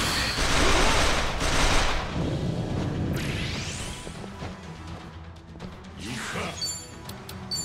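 Gunfire in the video game Like a Dragon: Infinite Wealth: a loud burst of rapid shots and crashes at first, easing into whooshes, impacts and sharp game effects.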